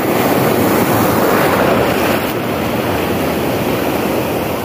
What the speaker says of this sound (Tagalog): Ayan, mga alon.